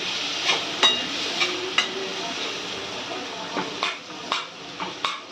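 Vegetables stirred with turmeric in a pan: a low sizzle under a series of sharp spoon clinks and scrapes against the metal, spaced irregularly and close by.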